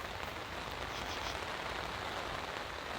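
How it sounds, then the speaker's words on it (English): Heavy rain pours down steadily at a remote forest campsite, a dense, unbroken hiss of drops drumming on surfaces, loud and close with no pauses or voices. "As you all can hear, it's raining."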